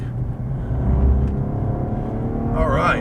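A Cadillac ATS-V sedan's engine accelerating on a road, a steady, throaty drone that holds strongly throughout, with a person briefly speaking over it.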